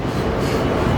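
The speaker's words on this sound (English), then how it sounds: "Here we are on the outbound train of all time." A busy outbound commuter train rumbles with a loud, steady low roar, as heard from aboard, with no talk.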